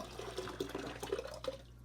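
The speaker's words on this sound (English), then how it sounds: "So we're going to add this boiled water" Boiled water poured into an ice chest of water, a quiet gurgling trickle with small splashes for about two seconds, faint and close.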